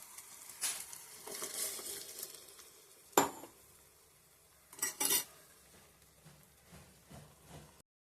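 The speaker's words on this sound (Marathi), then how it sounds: "आपण मिक्सरचा भांडा धुवून घेऊया" A mixer jar being rinsed and washed by hand, with clinks and knocks of the metal jar, a few louder clanks and faint splashing, close by with no talk.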